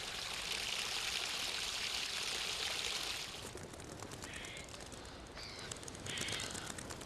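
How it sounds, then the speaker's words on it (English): Spring water that has filtered down from the top of Table Mountain runs steadily through a garden channel in South Africa, a continuous close rushing stream with faint bird chirps appearing in the second half. "the water which has come down from the top of Table Mountain filtered down and is still running"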